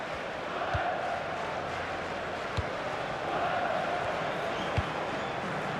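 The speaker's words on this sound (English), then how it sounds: "And the crowd really enjoying it." Stadium crowd cheering in the football video game FIFA 16, a steady broad roar of a distant crowd with a few faint thumps, continuous throughout.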